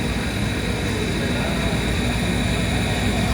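Steady broadband machinery drone from a running refrigeration compressor on an ice maker with a flooding expansion valve, a constant loud hum with hiss and no breaks, heard close and alone.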